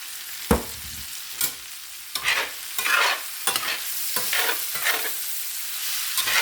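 Onions frying in a big iron pan, with repeated scraping stirs over a steady sizzle, loud and close, with no talking.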